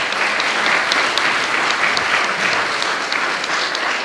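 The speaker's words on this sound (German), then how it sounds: "Und das ist ein fetter Applaus." Loud, sustained applause from a conference audience at the opening of an integration-themed event, dense clapping throughout without pause or speech.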